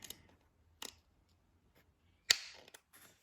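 Scissors trimming the edges of a fabric dog bandana: a few sharp, isolated snips close up, spaced apart with quiet gaps, the last ones crisper and louder.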